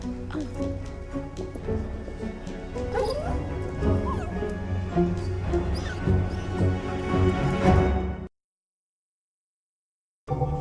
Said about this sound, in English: Where did that dog come from?